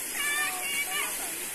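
River water rushes and splashes while people play in it, with voices talking throughout over the constant watery hiss.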